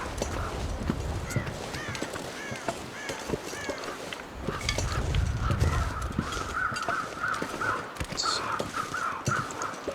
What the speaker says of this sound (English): Crows are squawking, which probably means something has died.